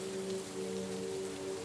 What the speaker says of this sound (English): Watching the rain nourish the plants